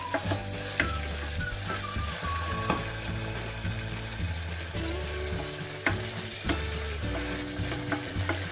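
Tomato puree frying in a pot of Zimbabwean-style jollof rice and being stirred, a steady close sizzle with periodic scrapes and knocks of the spoon, under faint background music and no talk.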